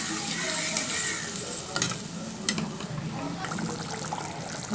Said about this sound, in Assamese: মই আলুখিনি ভজা হৈছে, এতিয়া মই পানী দি দিম।